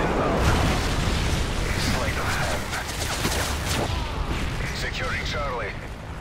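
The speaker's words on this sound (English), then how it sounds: "Friendly airstrike on the way" Airstrike explosions in Call of Duty multiplayer Domination: a heavy, continuous rumbling barrage of blasts with scattered gunfire. Radio-style game voices call out over the din.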